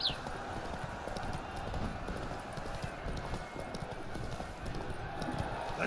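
Roach, a horse in The Witcher 3, gallops steadily across open ground, hoofbeats thudding in a continuous rhythm under a wash of wind and ambient noise, fairly close and moderately loud.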